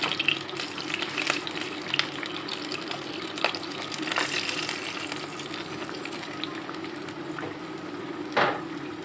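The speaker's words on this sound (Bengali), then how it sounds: "নারকেলের দুধ দিয়েছি আমি।" Coconut milk pours into a pan for an egg and hog plum korma, a continuous liquid gush with a light sizzling hiss throughout and a brief louder splash near the end.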